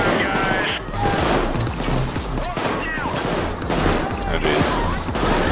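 Gunfire rattles almost without pause during a shootout in Payday 2. Overlapping shots and bursts come fast and loud, and voices break in over the shooting.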